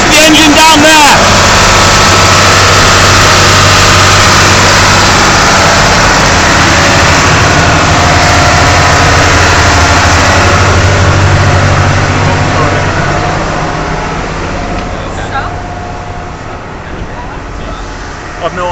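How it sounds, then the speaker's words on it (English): The engine of a slowboat on the Mekong River in Laos roars loudly and continuously close by, a dense steady drone that eases off slightly toward the end. "There's the engine down there!"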